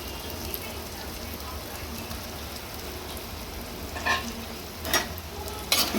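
Marinated chicken meat frying in a pan while being stirred during Handi chicken cooking, a continuous close sizzle with scraping stirs and a few sharper clinks of the spoon toward the end.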